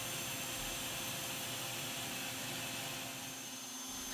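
A CNC machine runs a flattening toolpath across a wet wood board, giving off a loud, steady, unbroken whine and roar that fills the whole stretch with no talk.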